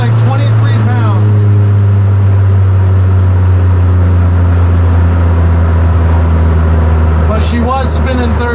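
Ford Probe GT with an HX35 turbo pulling hard in third gear, a loud, heavy, steady engine drone with a rising whine and rushing air, and someone speaking briefly near the start and end.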